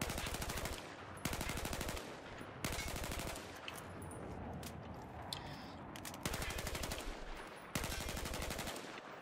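An M4/M16A4 rifle in Battlefield 4 fires in sharp, loud three-round bursts, repeated several times with short pauses and a longer quiet stretch in the middle, with no talking.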